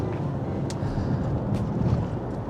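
A 2013 Volkswagen Touareg 3.0 TDI diesel engine drones low and heavy, pulling steadily, heard from inside the vehicle, with a rumbling rise in intensity and no voices.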